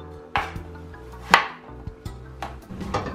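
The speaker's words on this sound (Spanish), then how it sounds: "Y enseguida vamos a picar el jitomate." Tomatoes being chopped with a knife on a board, a handful of distinct, irregular knocks, fairly close and moderately loud with no talking.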